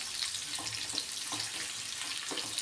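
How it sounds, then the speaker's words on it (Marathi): Chopped onion softening lightly in a pan over a medium gas flame crackles with a close, steady sizzle, punctuated by soft rhythmic stirring scrapes every half second or so. "बघा कांदा आपला असा थोडासाच परतून घ्यायचा आहे"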